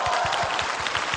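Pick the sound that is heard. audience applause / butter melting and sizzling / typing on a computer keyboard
audience applause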